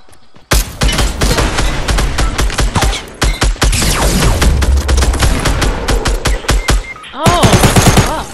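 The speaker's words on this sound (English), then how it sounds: "That shotgun shoots so slow" A shotgun fires in Fortnite amid heavy nearby gunfire: loud, rapid sharp blasts crowd together in long stretches, a brief gap, then a final tight burst.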